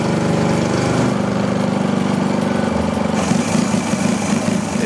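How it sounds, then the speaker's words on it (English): A Canadian team's Shell Eco-marathon car engine runs steadily while being fine-tuned, a loud, continuous mid-pitched drone like a small mower motor with a constant throbbing idle. "To go, the Canadians are fine-tuning their engine."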